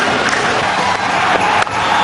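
A cricket crowd in Sharjah roars for a Tendulkar boundary in the 1998 final against Zimbabwe, a dense sustained wash of cheering and clapping at full volume throughout.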